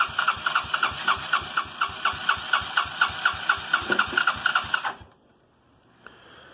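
A cold Honda 200cc off-road buggy engine, started in roughly 15-degree weather, fires in a rapid, steady chugging rhythm for about five seconds, loud and close, then cuts out abruptly and leaves near-silence.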